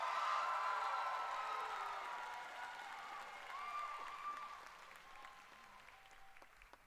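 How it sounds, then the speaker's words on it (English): An audience applauds a Richland High School production of Anastasia at a high school theatre awards show, a full round of clapping that is strongest at the start and then gradually fades. "Let's give a round of applause for Richland High School and their production of Anastasia."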